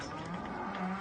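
A cow moos once, a low drawn-out call from inside a tin-and-board barn, fairly close and alone.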